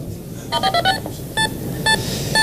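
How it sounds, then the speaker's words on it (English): DTMF touch-tone code sent over a radio frequency to wake a pager receiver: a quick burst of several short beeps followed by two longer separated tones, heard over a faint hiss with no talk. "he sent me a touch tone code out, and that waked my receiver off."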